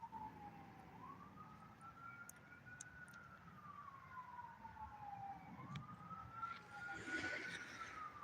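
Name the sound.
police car siren blaring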